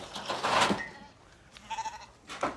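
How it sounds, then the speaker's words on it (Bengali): Several goats on a Bangladeshi farm bleat close by in a few short, separate calls, with quieter rustling between them. "ছাগল দেখো কতগুলো আছে দেখো"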